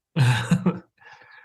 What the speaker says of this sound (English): Clear my throat conspicuously